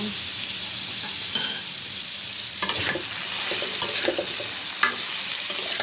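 Taro pieces frying in oil with salt and turmeric, a steady close sizzle with occasional stirring scrapes and spatters, no voices.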